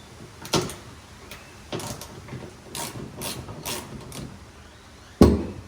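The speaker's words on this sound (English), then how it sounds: "So let's go ahead and get those screws out." Screws being backed out of a taillight on a Jeep Gladiator, heard as a few separate faint mechanical clicks and ratcheting ticks, with one louder sharp clunk near the end, and no talking.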